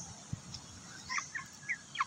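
Faint, scattered chirps and soft clucking from 3-month-old Shamo Aseel chickens in a small backyard coop, a few short calls over a low, steady background.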